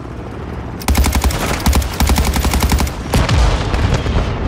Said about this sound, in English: Oh no, they shot down my heli.